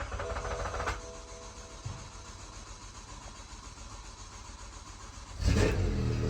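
A BMW V10 engine in a car fitted with a Syvecs ECU and DCT swap cranking over steadily for several seconds with a low, even churn, then a louder burst near the end as it catches.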